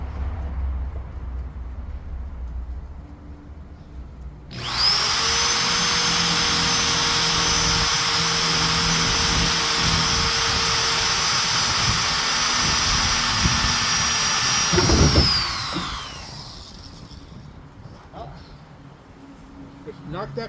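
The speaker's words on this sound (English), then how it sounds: "Time to drill and make sure it lines up." Power drill boring a bolt hole during a building job, a loud steady whine that starts abruptly, holds for about ten seconds, then winds down.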